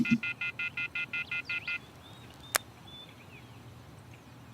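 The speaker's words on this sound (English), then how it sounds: "I took out my cell phone and dialed the first number from my contact list." A cell phone dials a number: about eight quick, evenly spaced beeps in a rapid burst, followed by a single sharp click and a quiet background hush.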